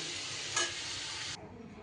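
Taro pieces frying in oil give a continuous close sizzle with a brief stirring scrape partway through, then the bright hiss drops away to a quieter background.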